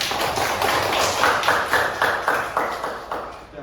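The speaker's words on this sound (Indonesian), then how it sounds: "Tepuk tangan untuk kita semua." Students in a classroom clap together, with roughly a dozen distinct, rhythmic claps sounding close and fairly loud, and little talk over them.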